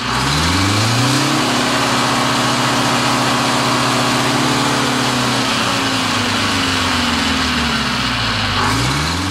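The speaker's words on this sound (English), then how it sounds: "This one has a four-cylinder General Motors diesel." A four-cylinder General Motors diesel bus engine runs loud and close, droning steadily before its pitch sags and then climbs again.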